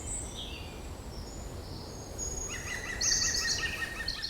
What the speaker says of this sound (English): We're now hearing our first blackbirds.